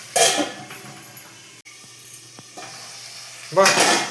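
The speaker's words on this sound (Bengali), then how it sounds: "পেঁয়াজ থেকে জল ছাড়বে একটু ভাজা ভাজা হোক" Onions frying in a pan for chana masala (chickpea ghugni), a broadband sizzle that swells at the start and again at the end, easing in between with faint clatter of a utensil.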